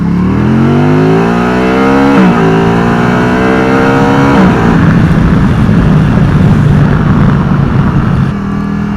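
A Can-Am Spyder three-wheeler runs at full throttle and shifts up through the gears, loud and close. The engine revs rise, drop at each shift and climb again before it backs off at the end.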